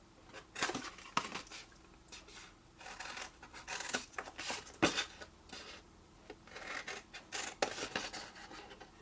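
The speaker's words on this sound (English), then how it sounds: "remove this long skinny bit that's down at the bottom, then cut up the other 3 lines." Scissors cut paper along straight lines while making a tall tower pen gift holder: a quiet series of irregular crisp snips and rustling rubs, close by and with no voices.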